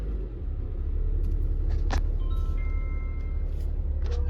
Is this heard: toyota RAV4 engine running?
yes